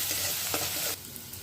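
Spice masala with ground coconut paste sizzling in a hot pan, a close, loud crackle with a brief stir near the middle before it drops to a quieter fizz.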